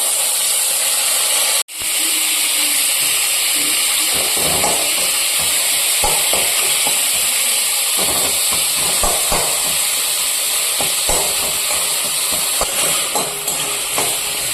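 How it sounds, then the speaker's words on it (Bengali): Five-spice with dried and green chillies sizzles in hot oil, a loud, constant close hiss broken by a sharp clatter early on, with scattered knocks of a spatula against the pan. "পাঁচ ফোড়ন দিয়ে দিলাম, শুকনো লঙ্কা দিয়ে দিলাম, কাঁচা লঙ্কা একটা দিয়ে দিলাম"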